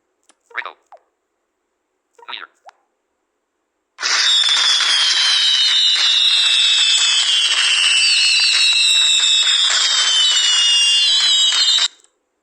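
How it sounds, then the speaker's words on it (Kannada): After two short blips, a loud electronic fireworks ringtone plays for several seconds: whistling rising tones over dense crackling bursts, then stops abruptly. "ಇದ್ರ ಹೆಸರು ಫೈರ್ ವರ್ಕ್ಸ್ ಅಂತ ಇದನ್ನು ಪ್ಲೇ ಮಾಡೋಣ"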